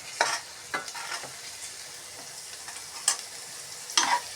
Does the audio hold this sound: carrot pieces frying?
yes